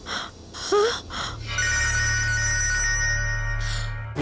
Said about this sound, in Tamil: அப்பா ரிங் போகுது.